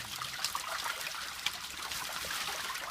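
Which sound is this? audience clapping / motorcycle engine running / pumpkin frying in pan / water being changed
water being changed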